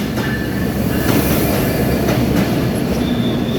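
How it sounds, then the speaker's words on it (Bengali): The Kapotaksha Express passenger train in Bangladesh rolls into a station loudly and close, its wheels clattering steadily with a low rumble and faint squeals, no voices heard. "এই তো সেই চলে আসছে ট্রেন"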